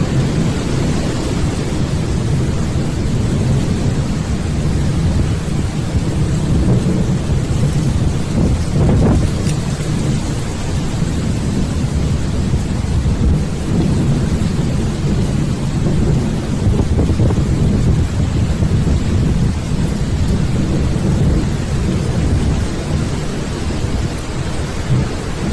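A thunderstorm pours heavy, continuous rain while thunder rumbles low and deep, and wind buffets the microphone throughout. There is no speech.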